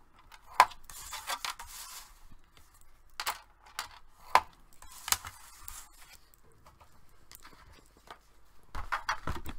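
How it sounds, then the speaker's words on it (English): A bone folder scoring a paper band for a Christmas Cheer folio, giving soft, brief rasping strokes repeated in irregular bursts, close and fairly quiet with no talking. "And you're going to score it half inch on each end."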